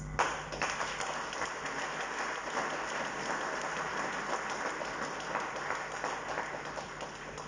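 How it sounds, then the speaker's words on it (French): A ceremony audience at an investment forum in Senegal applauds in a continuous, even wash of many hands clapping, steady for over seven seconds and heard from some distance at a modest level. "je vous prie d'applaudir le DG de l'APIX"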